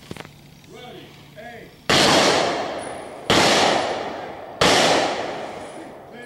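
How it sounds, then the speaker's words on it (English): Three sharp rifle volleys from an honor guard at a funeral ring out one after another, each a loud crack with a long echoing decay. Faint voices and a brief command come just before the first shot. "Honor Guard, prepare to fire three volleys."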